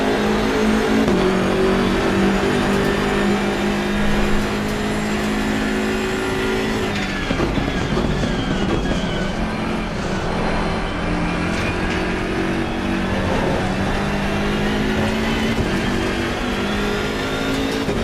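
A powerful car engine in a racing simulator game drones loudly and continuously, a low rumble like a Mercedes AMG, rising and falling in pitch as it revs and shifts through gears.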